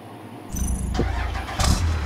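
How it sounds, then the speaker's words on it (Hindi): A car engine starts up in the mobile battle royale game Free Fire MAX, cranking after a short silence and then settling into a loud, steady idle with no talking. "गाड़ी लेके चलते हैं"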